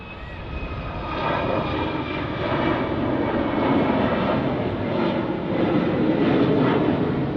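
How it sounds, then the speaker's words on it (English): A jet airliner with huge high-bypass engines roars at Manchester Airport, a loud, steady, broadband engine rumble that holds for several seconds with no voices. "Huge high bypass engines."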